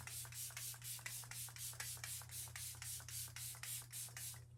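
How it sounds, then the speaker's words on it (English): Summer Fridays moisturizing face mist sprayed from a pump bottle, a rapid string of about sixteen short, even hissing bursts, close and steady over a low background hum. "Actually, I'll spray my face first."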